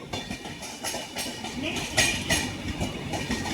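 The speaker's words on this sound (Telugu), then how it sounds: "కింద ట్రైన్ పైన ట్రైన్ వెళ్తున్నట్టుంది" A train rumbles across a bridge, passing over another train below, with a steady, dense roar and rhythmic clattering bursts, loud and close, continuing throughout.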